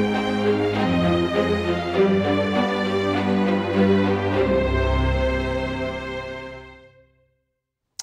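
Orchestral string parts played back together in Logic Pro: a full, sustained ensemble swell with layered low and high strings, holding loud and steady before tapering off and ending in silence near the end.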